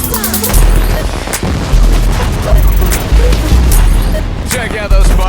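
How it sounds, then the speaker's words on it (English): Loud fireworks bursting outdoors, a rapid jumble of booms and crackling pops repeating over several seconds, with voices faintly mixed underneath. "Check out those fireworks."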